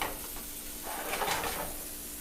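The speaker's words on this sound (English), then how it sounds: "Sizzle, sizzle, little shrimp." Shrimp for a spicy shrimp salad sizzle in a frying pan with a steady, close, crackling hiss that swells slightly midway, with no talking.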